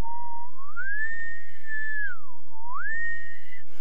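A person whistles a clear, loud, close tone that rises and holds steady, dips down, then rises and holds again, showing how the tongue sits for altissimo saxophone playing, with no talking.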